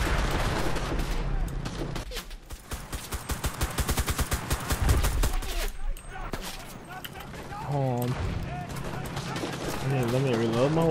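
Rapid gunfire from World War II weapons in the shooter Enlisted, during a Battle of Berlin assault at Lehrter Bahnhof: dense bursts of automatic fire crackle close by, mixed with heavier shots, under someone talking throughout.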